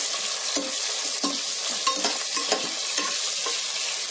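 Chopped onions and green chillies frying in oil in a pan for restaurant-style tomato bath, with a steady close sizzle broken by repeated scraping stirs of a spoon, no voices.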